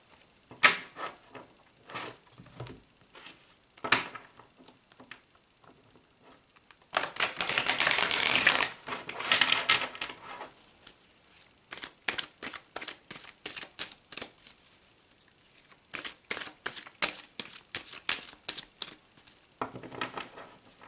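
Tarot cards are shuffled close by in irregular runs of quick crisp riffling and tapping, with one longer dense burst of riffles partway through and short pauses between runs.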